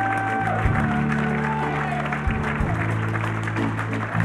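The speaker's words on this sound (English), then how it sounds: "I want a big round of applause for all the performers that donated their time tonight." Audience applause for performers at a 2011 benefit show, a steady crowd wash of clapping over strong low musical tones, sustained through the whole stretch at moderate loudness.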